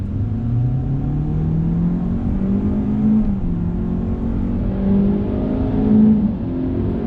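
A 2021 Hyundai Elantra accelerates under throttle, its engine note climbing steadily in pitch from inside the cabin, then dropping back briefly at simulated shift points before rising again, heard alone without talk.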